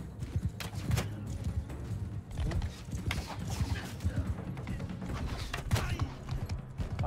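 Video-game horse hooves pound in a rapid, steady clip-clop during mounted horse archery, with clattering battle noise mixed in throughout.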